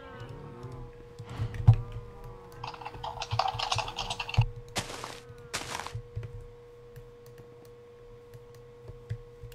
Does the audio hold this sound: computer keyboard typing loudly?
yes